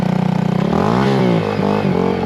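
A 2022 Honda Grom motorcycle with a new aftermarket exhaust revs up and down loudly and close by, its throaty exhaust note rising and falling in pitch.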